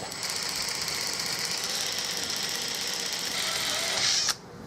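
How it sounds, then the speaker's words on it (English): A drill bores a hole into a Turkish walnut gun stock for a Carl Stiegele 16-gauge shotgun, giving a steady high-pitched whine that runs evenly and then cuts off abruptly near the end, fairly quiet and close. "and just drill it."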